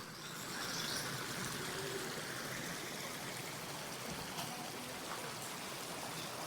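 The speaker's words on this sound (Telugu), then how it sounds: "ఇది ఒక కాలువలా బారుతుంది" Continuous gentle rush of a stream flowing through a coconut grove from the Five Falls at Courtallam, close and steady, with no voices.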